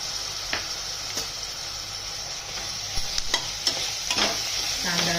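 Chopper-minced tomatoes fry in a pan with a green chilli, ginger and garlic paste for chicken sukka masala: a steady close sizzle, broken by repeated spoon scrapes and stirring clatters.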